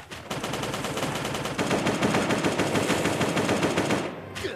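Sustained automatic AK rifle fire in the Last Day on Earth survival game, a loud continuous rattling burst running for about four seconds before cutting off, with no talk over it.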